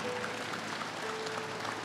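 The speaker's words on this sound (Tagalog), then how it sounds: "Yung palakpak niyo, malabo pa." An audience at a live religious healing service applauds, a steady patter of many hands clapping at once for a couple of seconds.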